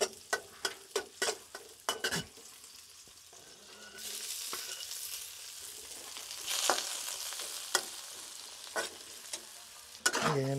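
Mung beans sauté in a pan: a run of sharp spoon scrapes and clacks, then a steady sizzle with occasional stirring knocks, ending in another clatter.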